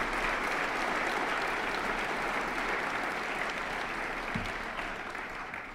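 An audience at a city's State of the City address gives council members a round of applause, a sustained, even wash of clapping from a large crowd that eases slightly at the end.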